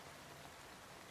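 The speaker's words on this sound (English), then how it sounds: "Let's get some rain" Soft, steady background rain patters in a faint, even hiss with no voices or other sounds.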